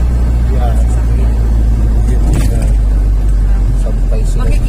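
Cars and other vehicles cross a recently flooded road in Catanduanes, Bicol, now cleared of mud and water. A constant low traffic rumble runs throughout, with voices talking over it.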